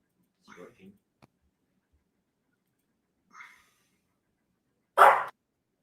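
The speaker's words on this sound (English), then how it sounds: "You want to see my dog, Steven?" A pet dog gives a few soft, scattered vocal sounds, then one sharp, loud bark near the end, close to the microphone in an indoor setting.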